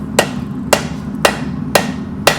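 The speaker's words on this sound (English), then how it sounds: "Just hammer right on that section." Hot knife steel laid flat on an anvil takes five evenly spaced, sharp hammer blows, each a bright metallic ring, close and loud with no talk.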